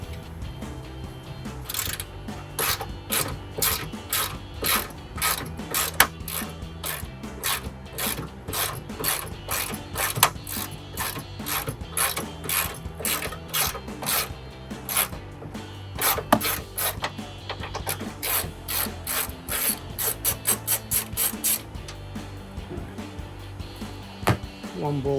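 A ratchet with a 13mm socket clicks rapidly while turning a bolt during a cold air intake install on a GMC Sierra 1500, with close, repeated bursts of ratcheting throughout, a few brief pauses between them.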